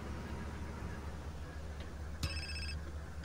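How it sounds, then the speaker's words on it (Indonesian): A phone rings briefly in Grand Theft Auto San Andreas, a short electronic ring tone heard over a steady game background hum. "Wih, ada telepon, ada telepon."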